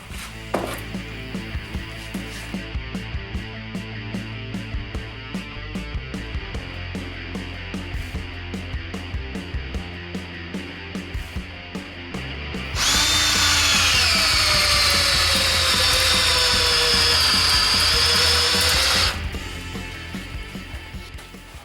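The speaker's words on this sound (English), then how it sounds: "I'm pulling in on the trigger all the way, so it's going at maximum speed. And we've drilled holes through this complete 2x4." An Ingersoll Rand D5140 20V cordless drill at full speed bores through a 2x4, first a rattling, chattering grind, then a loud sustained high whine for several seconds before it cuts off.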